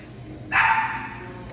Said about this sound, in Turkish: Köpeğe bak.